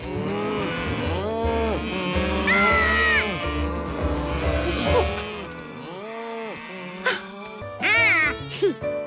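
Several cows moo loudly and repeatedly, long low calls overlapping one another, with a few higher bellows near the end.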